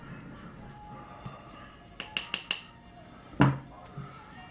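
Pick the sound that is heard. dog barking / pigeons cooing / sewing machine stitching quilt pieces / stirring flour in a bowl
stirring flour in a bowl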